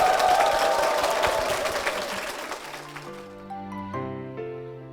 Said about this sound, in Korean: 우리 집사님께 다시 한번 큰 박수 부탁드리겠습니다.